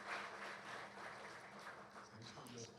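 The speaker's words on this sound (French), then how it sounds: "J'aimerais qu'on applaudisse pour tous nos panélistes" An audience at a business panel event applauds the panelists with soft, steady clapping heard at a distance, faint and continuous, with some voices mixed in.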